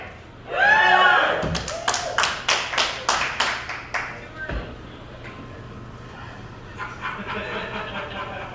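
A live audience at a show in Tombstone claps in a run of sharp, rhythmic bursts after a loud opening shout, then fades to low murmuring.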